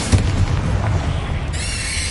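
A Confringo spell blast in Hogwarts Legacy bursts loudly with a sharp opening boom, then a rumbling decay that gives way to a shimmering magical ring, with no voices.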